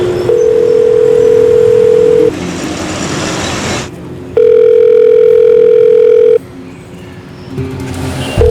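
A loud telephone line tone sounds in long steady stretches, switching on and off in separate segments with quieter background hum between them, as a call comes in from the police commissioner; no one speaks.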